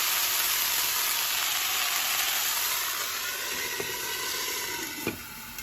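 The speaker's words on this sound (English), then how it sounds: "So I've got the beef sealing. As you can see, it spits" Beef searing in a lidded pan, a steady loud hiss of sizzling fat with occasional spits and pops, close and continuous.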